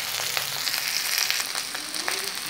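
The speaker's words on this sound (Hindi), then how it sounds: "ये अच्छी तरह फ्राई हो गया है, इसे थोड़ा देर और फ्राई करेंगे।" An egg cutlet fries in a pan over the flame, giving a steady close sizzle dotted with sharp little crackles and pops.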